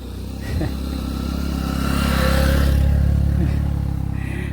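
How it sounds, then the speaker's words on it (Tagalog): A motorcycle on a mountain road in Ilocos Sur approaches and passes nearby, its engine swelling to a loud rumbling peak and then easing off. "May motor."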